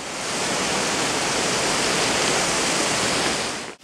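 A waterfall at the Atri Muni ashram roars as a steady, loud, close rush of falling water, continuous and unbroken until it cuts off at the end.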